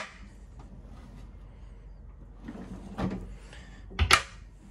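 Drawers in a Latitude Element 27 motorhome on an Iveco Daily chassis sliding open and shut smoothly, with soft rolling runs and two gentle thuds near the end against a quiet interior.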